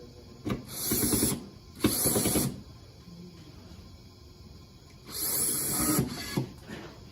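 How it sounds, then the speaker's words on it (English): An Ingersoll Rand torque gun tightens a bolt on a factory assembly line, in two loud, broad bursts of whirring power-tool noise a few seconds apart, each lasting about a second, with quieter machinery hum in between. "they're going to use the torque gun to tighten the bolt"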